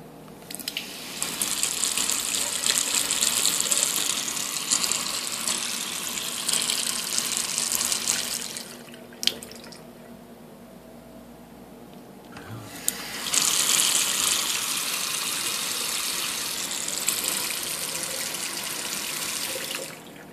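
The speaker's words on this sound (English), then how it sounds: "So I'm gonna turn on this sink." Water runs from a tap into a sink in a movie theatre bathroom, a steady close gushing that stops for a few seconds with a clunk of the handle, then starts again just as strongly.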